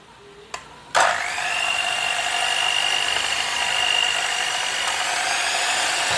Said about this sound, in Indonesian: sekarang margarin ini mau aku kocok hingga mengembang putih dan juga lembut